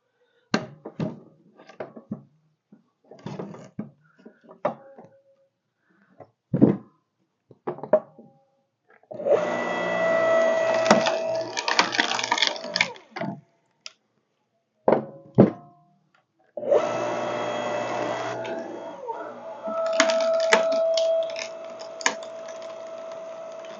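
A 5 ton electric log splitter works through tough, knotty wood, its motor droning steadily in two long stretches between scattered thunks, knocks and creaks as logs are loaded and split apart nearby.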